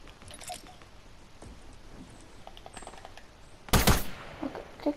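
Gunfire in the video game Fortnite during a 50v50 match comes as scattered faint distant shots, then one loud close burst near the end with a few lighter pops afterward.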